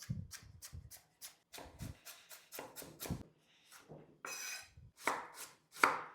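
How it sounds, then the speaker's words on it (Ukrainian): A knife slices carrots repeatedly on a cutting board in quick, irregular bursts of crisp thuds, close up with brief pauses between runs. "розрізаємо навпіл вздовж. І нарізаємо ось такими півкільцями"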